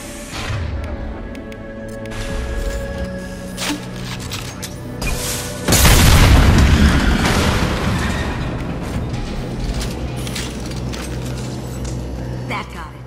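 A tank blows up in a video game with a single heavy boom midway through, which then decays into rumbling debris under ongoing game noise, while voices talk throughout.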